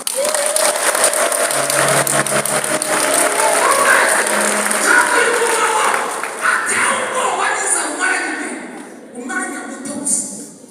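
A church congregation claps loudly and continuously during an evangelist's sermon, with dense applause filling the space and voices rising over it before the clapping thins out near the end.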